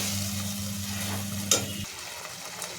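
Cooked wild greens sizzle softly in a pan with one brief scrape from the stirring. A low hum runs underneath and then cuts out, and the sound is quiet and close with no talking.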